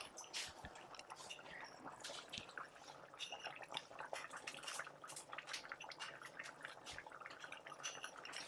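Water splashes and trickles into a pot of beef bone stew, a faint, continuous pouring and dripping with small clinks of cookware and no talking.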